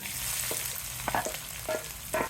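Onions and green chillies frying in a pan for pumpkin curry, a brief steady sizzle with a few quick spatula scrapes and taps.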